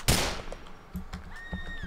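A gunshot fired in GTA 4 during a police pursuit, a sharp loud crack at the start followed by fainter rapid pops and a siren-like tone.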